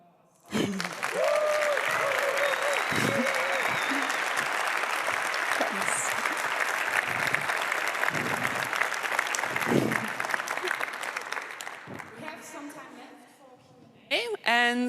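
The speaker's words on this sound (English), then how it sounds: "Come on, you can do another applause." After a talk about the Dutch referendum, an indoor audience breaks into sustained clapping that swells quickly and holds steady for about eleven seconds before fading. A voice speaks briefly at the start and again as the applause dies away.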